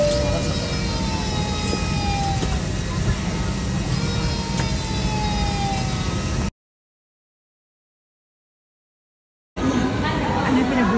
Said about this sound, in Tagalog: I am inside the airplane now, waiting for takeoff.